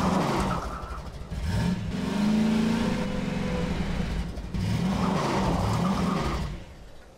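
A car engine in Half-Life 2 revs up and down loudly and steadily, its pitch rising and falling in long sweeps, with tire noise and no talking.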